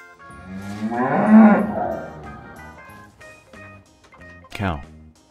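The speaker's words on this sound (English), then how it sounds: "Cow." A cow gives one long, loud, close moo that swells and fades, followed by quieter animal calls and a short rising cry near the end.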